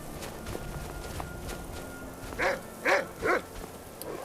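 A dog in the video game Skyrim Anniversary Edition barks three times in quick succession, moderately close, over a steady bed of wind and ambient game noise with light footstep-like thuds, near the snowy town of Dawnstar.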